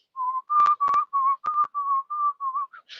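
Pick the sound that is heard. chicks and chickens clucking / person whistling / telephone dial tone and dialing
person whistling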